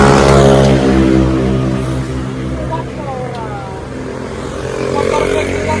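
A motorcycle engine hums loudly and steadily up close while riding on the road, its droning tone dipping and then rising again, with some voices in the background.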